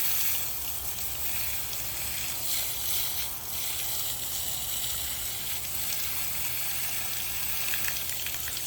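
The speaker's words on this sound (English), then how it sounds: "so I take the hose and I just give it a spray" A garden hose sprays water onto a dirty koi pond filter pad, producing a continuous close hiss and splashing gush that holds steady with slight surges.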